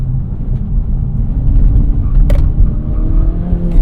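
A 2023 Acura Integra with a six-speed manual, a front-wheel-drive car, accelerates hard on a Detroit on-ramp, with a steady loud engine and road rumble close by throughout and no break in the drone.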